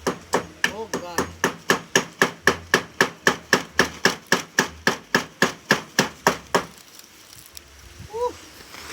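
A hammer drives nails into a wooden chicken coop, about twenty sharp, evenly spaced blows in a quick steady rhythm close by, then it stops and leaves faint background sound with a brief bird chirp.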